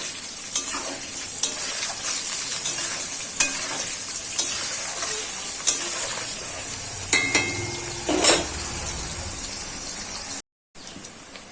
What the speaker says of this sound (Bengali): এবার পেঁয়াজটা আমি ভাজতে থাকবো।